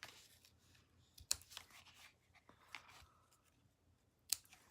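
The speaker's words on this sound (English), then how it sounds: "And we'll just cut the ribbon away." Scissors snip ribbon away from a handmade floral card, a few sharp, quiet cuts spaced apart in a near-silent room.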